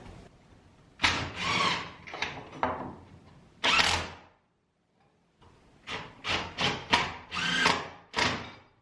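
Power drill driving 1.5 inch screws into wood in a shed, several bursts of whirring of varying length with short pauses between them, loud and close, no talking.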